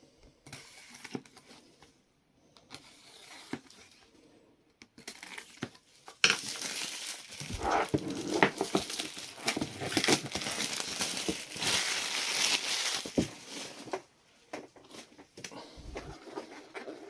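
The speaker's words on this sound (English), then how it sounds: "Let's get this packaging off." Packaging comes off a Gaahleri product box, with close plastic crinkling, rustling and tearing in irregular bursts, quiet at first and then a dense stretch of crackling before it tapers off.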